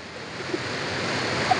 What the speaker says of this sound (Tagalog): Malakas ang dali ng tubig.